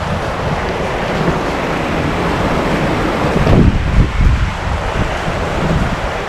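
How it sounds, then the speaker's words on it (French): Strong wind roars steadily over the microphone while rough Atlantic sea waves near Gibraltar surge and crash close by, with a louder wash in the middle. "il y a toujours 20 de vent, hein, mais une mer un peu pourrie"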